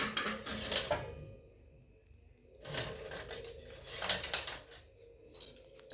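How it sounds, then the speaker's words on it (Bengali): Metal forks clink and rattle as they are picked up and handled at a meal, in a few quiet bursts of bright clatter separated by near-silent pauses. "কাঁটা চামচ নিয়ে নিয়েছি।"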